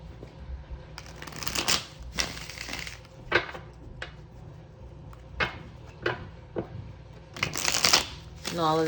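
Oracle cards shuffled by hand at close range, with repeated bursts of riffling and sliding card stock and soft taps between them, and no talk.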